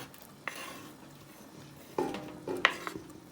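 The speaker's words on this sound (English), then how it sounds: "You have of course to stir to avoid the vegetable to get stuck to the bottom of your pot" Chopped vegetables cooking in leftover sauce for Milanese cassoeula get stirred in a pot: sparse metallic knocks and scrapes of a utensil against the pot, a few sharp clinks close together near the end, over a quiet background.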